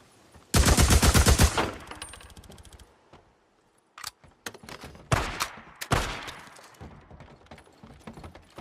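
Sniper gunfire in the video game Days Gone: a dense burst of rapid shots up front, then scattered sharp single cracks and shorter bursts, loud and close.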